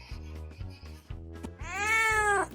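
A chubby cat meows close up, with a few short low calls followed by one long, rising and falling meow that grows louder toward the end.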